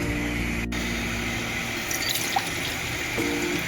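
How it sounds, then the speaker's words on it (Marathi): A glass of water tipped into a pan for making modak dough, heard as a steady close splashing pour with a few drips, and no one speaking. "त्याच प्रमाणात आपण एक पेला पाणी घेणार आहोत"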